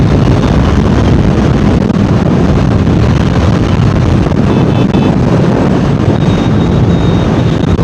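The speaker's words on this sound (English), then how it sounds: "I can feel the bike cutting through the wind." A Honda CBR650R inline-four sport motorcycle is ridden on a windy day in a strong crosswind, heard as a loud, continuous, rushing roar of wind buffeting from start to finish, with no talking.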